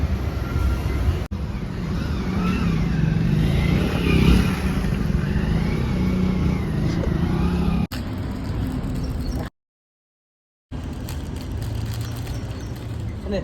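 Engine noise from a motor vehicle, steady and fairly loud, running continuously with some rising pitch, briefly cutting out near the end before resuming.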